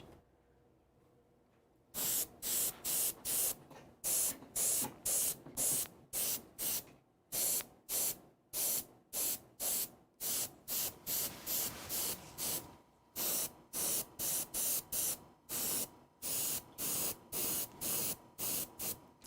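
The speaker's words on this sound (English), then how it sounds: "nice dulcet tones of an airbrush." An airbrush sprays fluorescent paint onto miniatures in short hissing bursts, roughly two per second, close and loud, with brief pauses between runs of spraying.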